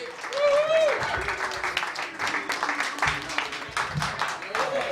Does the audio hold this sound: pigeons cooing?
no